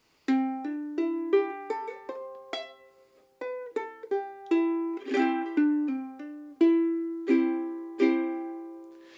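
Slow solo ukulele melody, single plucked notes with a few strummed chords, steady and unhurried, played up close with no voices.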